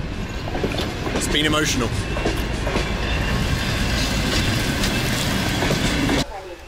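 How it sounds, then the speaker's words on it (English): Passenger train running on rails between Grodno and Lida in Belarus, a steady loud rumble with wheel clatter and faint squeals throughout, with someone speaking briefly over it before the noise cuts off near the end. "after this train, it's my train to Lida"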